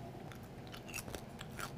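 Crunchy bacon cooked from a cold pan gets bitten and chewed close to the mic, giving a quick run of crisp crackling crunches. The sound is faint, with no talk.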